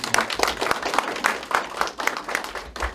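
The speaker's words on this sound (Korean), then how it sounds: "우리 강사 김미영 강사를 위해 다시 한번 박수 좀 보내주세요" An audience at an academy lecture on dance art claps for the woman lecturer, a steady, fairly rhythmic run of hand claps at moderate loudness with no voices over it.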